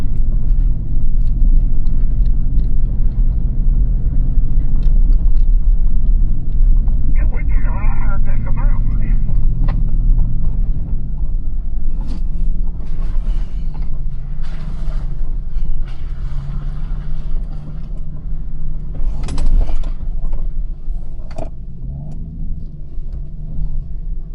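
Off-road vehicle crawling uphill in low first gear on the White Rim Trail, a loud steady engine rumble with road noise throughout and people talking over it.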